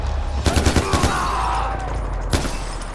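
Rapid bursts of gunfire in the video game Far Cry 4, several quick shots in a cluster followed by a pause and one more crack, loud and close.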